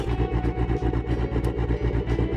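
A tuned 7-liter, 616 horsepower engine freshly fitted with new parts, running for its first time with a lumpy, pulsing idle, loud and close, firing in an uneven rhythm with no voices.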